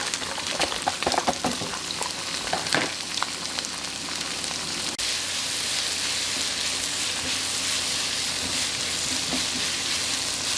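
Onions and garlic fry in a pan for Singapore chow mein rice noodles, a loud continuous sizzling hiss with clattering and stirring through the first half, then settling into an even sizzle.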